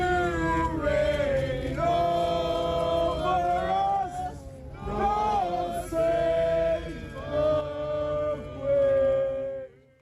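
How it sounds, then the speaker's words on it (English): Large crowd outside Buckingham Palace singing the national anthem together in mourning for Queen Elizabeth II, sustained massed voices rising and falling through sung phrases, close and loud, fading at the end. "members of a large crowd outside Buckingham Palace began to sing the national anthem"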